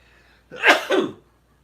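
One sharp sneeze, a quick intake followed by a loud burst, close to the microphone against a quiet background.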